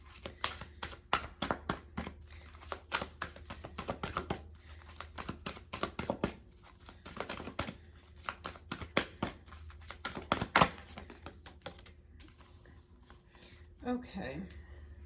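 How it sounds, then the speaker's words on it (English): Soul Truth oracle cards are shuffled by hand in a steady run of soft, rapid riffling flutters, close and fairly quiet. A voice speaks briefly near the end. "I want to pull you a couple of this Soul Truth cards."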